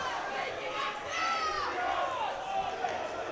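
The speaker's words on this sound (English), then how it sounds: "I can barely hear myself think with this crowd." Loud, dense crowd roar at a Swansea vs Cardiff varsity powerlifting event, steady and continuous with shouts and cheers rising over the din, voices overlapping throughout.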